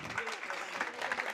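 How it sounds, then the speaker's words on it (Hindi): Audience applause at a religious discourse gathering, a soft dense patter of many hands clapping at a distance, with voices mixed in. "तालियां बजाकर एक बार अनुमोदना कर दें।"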